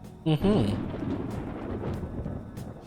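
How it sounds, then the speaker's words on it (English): Thunder rolls in a Persona 5 Royal video game scene ahead of rain, a low sustained rumble that swells after a short voiced sound and then slowly fades. "It sounds like it's going to rain."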